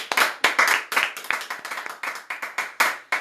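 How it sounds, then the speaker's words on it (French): A congregation at a Pentecost church celebration claps in bursts, with sharp, close hand claps repeating in uneven waves throughout and no speech over it. "Et bien évidemment, nous continuons d'applaudir pour Frère Valens."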